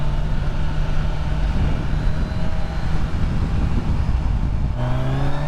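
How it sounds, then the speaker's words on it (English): A 2024 Kawasaki Ninja 1000SX motorcycle rolls on in second gear, its smooth engine drone rising steadily under heavy wind rush, then changing pitch abruptly near the end. "Oh yeah, this engine is a dream."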